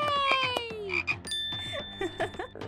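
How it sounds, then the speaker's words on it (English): Cartoon frog croaks in a playful animated scene, a few bouncy, stylized ribbits with bright musical tones and sound effects layered over them, fairly loud and close with no talking. "Look at that funny blue frog."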